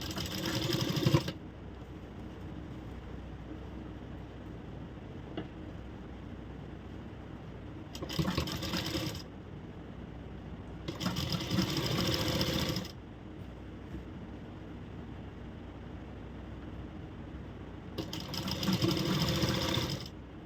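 A sewing machine stitches a blouse in short, whirring bursts. Four runs of rapid mechanical chatter start and stop, separated by quiet pauses in a calm room.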